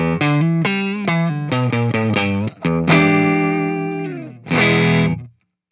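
An electric guitar played through a Flatsons KE1 pedal on its Twins clean amp model picks out quick single notes and chords, then lets a chord ring and strums one last chord, close and clear with no talking.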